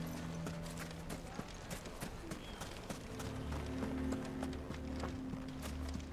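A female mount (chocobo) in Final Fantasy XVI running at a steady gallop, with continuous rhythmic footfalls over a low game ambience, fairly quiet and even throughout.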